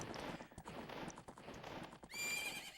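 Epona the horse in Ocarina of Time, a run of quick clip-clopping hoofbeats followed by a bright, shrill whinny at the end, fairly quiet overall.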